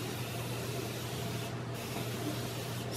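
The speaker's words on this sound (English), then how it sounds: "But I just go ahead and take a setting spray, whichever. I use the Morphe setting spray" Morphe setting spray misted over a face, a steady continuous hiss held close throughout, broken by a brief pause near the middle, with no talking.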